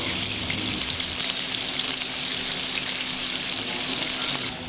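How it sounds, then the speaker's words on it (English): Small burgers fry in a frying pan, a steady, dense sizzle and crackle close by with no pauses, no voices, cutting off just before the end. "get all your little burgers made up and get them into the frying pan"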